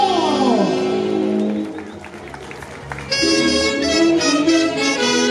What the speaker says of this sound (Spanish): ¡Los aplausos! ¡Bravo!